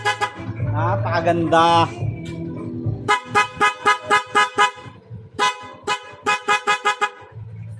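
Horn of a Honda TMX Alpha 125 motorcycle under repair after it failed to sound, blaring in two rapid bursts of short, close, loud toots after a moment of talk.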